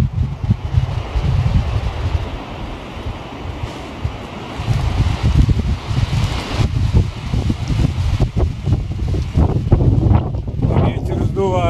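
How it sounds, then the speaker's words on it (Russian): Strong wind blowing outdoors on a stormy day, roaring and gusting hard against the microphone in continuous rumbling waves with occasional brief rustles. "Ветер сдувает."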